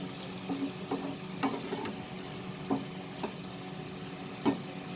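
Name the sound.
bottle gourd bhaji frying over medium flame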